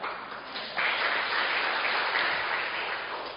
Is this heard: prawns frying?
no